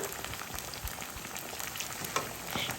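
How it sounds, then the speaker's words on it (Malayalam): Batter-coated bananas fry in hot coconut oil in a pan on the stove, with a continuous crackling hiss and scattered sharp pops, close and fairly even. "ഞാനിവിടെ ഫ്രൈ ചെയ്യുന്നത് വെളിച്ചെണ്ണയിൽ തന്നെയാണ്"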